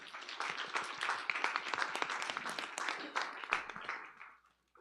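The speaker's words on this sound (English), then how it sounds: "Warm applause." Audience applause at a startup competition finalist's introduction, a burst of many hands clapping fairly close and lively, continuing for several seconds before quickly fading out.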